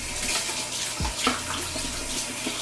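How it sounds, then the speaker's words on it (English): A hand rinsed under a running tap at a sink, a steady close rush of water with splashy changes as the hand moves through the stream. "I'm gonna rinse my hand off."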